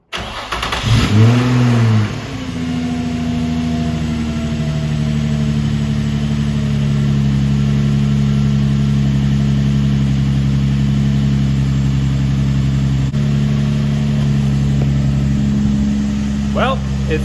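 A Nissan 350Z drift car's engine starts, then runs at a steady, loud idle and rev close by, with a brief voice speaking early on.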